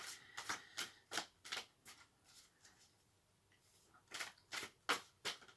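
Tarot cards riffle and snap in quick bursts, a pause, then another run of crisp shuffling, close and fairly quiet.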